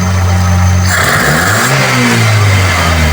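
A Toyota 2E carburetted engine with a throttle positioner revs up loudly from a steady idle, its pitch climbing and holding high, close and alone without talk.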